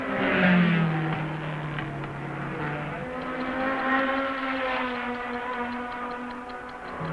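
Valiant Charger race car at Bathurst, 1972 Hardie Ferodo 500, speeding down the straight: a sustained engine drone with a falling then steady pitch, fairly close and steady in loudness, with no talk over it.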